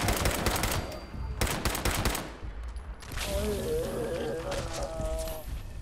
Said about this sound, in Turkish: Silah, silah, silah.